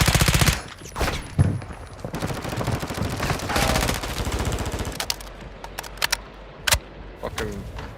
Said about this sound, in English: I have a gun to shoot them with a fucking SMG.